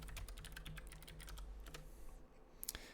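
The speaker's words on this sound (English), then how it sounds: "if I can type the password in correctly" Quiet keystrokes on a computer keyboard as a password is entered into a Dell PowerEdge server's iDRAC virtual console. A quick run of light clicks trails off, followed by a couple of sharper taps at the end.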